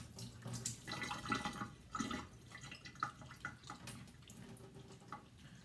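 Running tap water splashes over sliced beef being washed in a kitchen sink, a steady close flow with uneven spatters and no talking.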